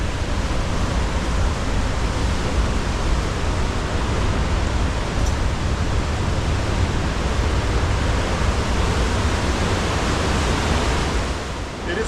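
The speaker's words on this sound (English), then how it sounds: "you hear the violence of the churning of the water" Loud, steady roar of water churning in the wake of the cruise ship Wonder of the Seas, a continuous broadband rush like heavy surf that holds level for the whole stretch with no voices.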